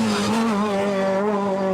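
Peugeot 306 Maxi Evo rally car on a hillclimb holds a loud, high, sustained engine note near its limiter, the pitch wavering slightly as it screams along.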